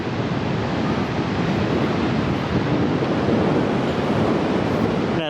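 Surf rolling onto Fistral Beach in the off season, a steady broadband wash of breaking waves mixed with buffeting wind on the microphone, continuous and fairly loud with no clear separate breaks.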